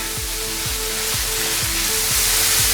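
Spinach sizzles as it wilts in a hot pan, a loud, steady frying hiss close by, with a faint rhythmic thumping underneath and no talking.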